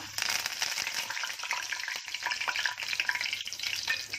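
Chopped curry leaves sizzle and crackle in hot mustard oil for a Konkani dried bombil dish, giving a steady, close hiss of frying with quick spitting pops that lasts throughout without any voices.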